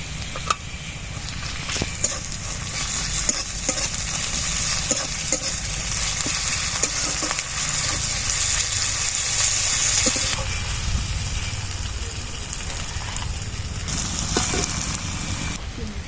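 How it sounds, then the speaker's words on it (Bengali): Ginger garlic paste sizzles in hot oil while fish curry fries, a steady dense crackle and hiss with occasional stirring clicks, close and continuous throughout. "আদা রসুন বাটাটা দিয়ে দিচ্ছি।"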